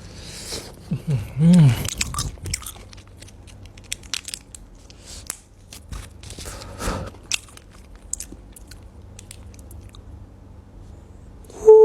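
Crunchy bites into KFC fried chicken sound close to the mic as scattered crisp crunches and tearing, with brief quiet vocal sounds between them.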